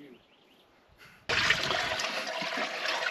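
Water gushes abruptly and loudly into the engine of an abandoned 1966 Chevy Biscayne that sat for 20 years, preceded by a quiet moment and a brief splash.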